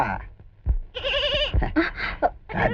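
A young goat bleats several times at close range, loud wavering cries broken by short pauses and a few soft knocks and thumps nearby.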